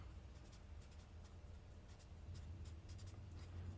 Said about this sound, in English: I'll write it down.